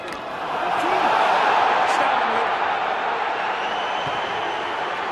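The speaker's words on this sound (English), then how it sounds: "Cries from the crowd on that far side." Roaring crowd at a rugby match, a broad, sustained wash of cries and cheers from the far side of the ground that swells after the first half-second and holds steady throughout.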